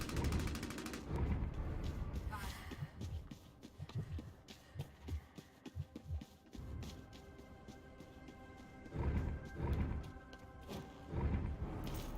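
SMG gunfire in Bloodhunt, delivered in repeated rapid bursts and scattered shots amid busy, layered game noise, moderately close, with rhythmic thumping between volleys.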